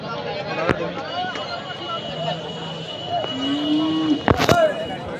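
Cows at the Sangola cattle market, held every Sunday, lowing several times amid crowd chatter. A longer, rising moo comes near the end, then sharp knocks and clatter.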